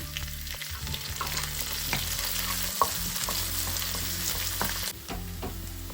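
Curry leaves and green chillies fry in hot oil for upma, giving a steady, close sizzle with occasional stirring clicks and scrapes of a spoon in the pan.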